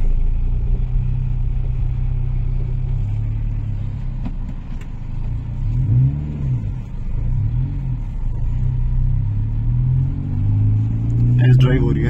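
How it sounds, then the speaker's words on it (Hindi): A car engine rumbles steadily from inside the cabin during a test drive with gear shifts, low and fairly loud, swelling slightly as it pulls, while people talk over it. "टेस्ट ड्राइव हो रही है, अब आप देखो सेकंड में आ गई"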